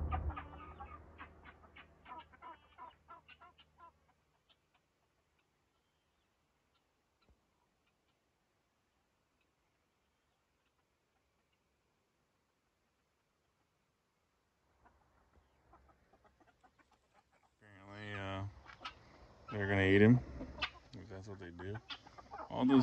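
Chickens cluck close by in two lively bursts, one at the start and a louder one near the end, separated by a long near-silent gap.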